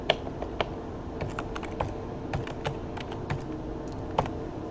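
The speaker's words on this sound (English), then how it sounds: "from there I will type in the host IP address" Rapid typing on a computer keyboard, a steady run of close, crisp key clicks with a few louder strokes, entering an IP address, no voices.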